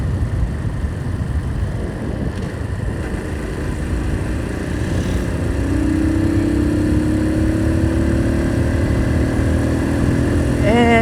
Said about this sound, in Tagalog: Sa tingin ko naman sapat na ang init ng ating motor, ng makina